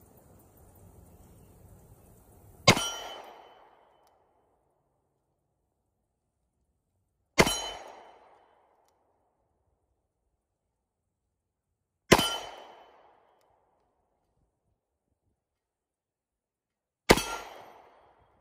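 Four single shots from an EAA Windicator .357 Magnum single-action revolver, each a sharp loud crack followed by a short ringing decay from a steel target, spaced about five seconds apart with silence between.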